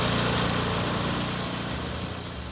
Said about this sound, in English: All you do is start the engine and let it idle for 5 minutes.